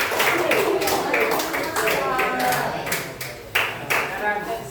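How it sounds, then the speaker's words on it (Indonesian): Classroom applause follows a call to clap during a group presentation on Islamic cultural history, steady clapping lasting several seconds with a few sharper claps near the end. "Berikan aplaus kepada"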